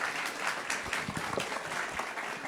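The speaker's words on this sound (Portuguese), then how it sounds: "Palmas para o nosso diretor." An audience applauds a director at a pre-exam essay class, producing a dense, sustained patter of many hands clapping at moderate volume that neither builds nor fades over its short length.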